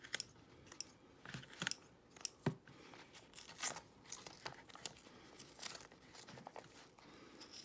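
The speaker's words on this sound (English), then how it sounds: "flip it over and trim your ribbons" Scissors trim ribbon ends and jump threads while sewing an alien-head zip bag, giving a series of short, faint snips and crinkles spread irregularly through the quiet.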